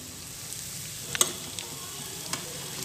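Ground spices tipped into hot oil over browned onion, garlic and ginger for a fish curry, giving a steady low sizzle with a few sharp crackles and stirring scrapes close by.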